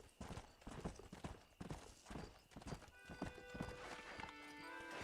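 Horse hooves clip-clop in a steady rhythm in Red Dead Redemption, followed by a horse neighing, with a game-like soundtrack tone underneath.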